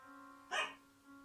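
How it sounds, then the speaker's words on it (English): Dog outside wanting to come in gives a single short bark, muffled and somewhat distant, over a quiet steady indoor hum. "The dog really wants to come in."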